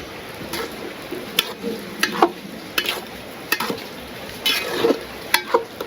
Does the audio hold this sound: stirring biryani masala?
yes